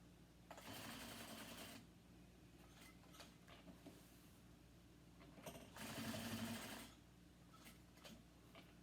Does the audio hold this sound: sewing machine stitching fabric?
yes